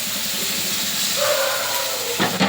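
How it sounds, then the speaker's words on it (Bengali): Chili and spice paste sizzles on a stove in a constant soft hiss, with a short tonal squeak midway and a couple of brief knocks near the end. "এদিকে মরিচ মশলা চুলার মাঝে দিয়ে কষিয়ে নিচ্ছি"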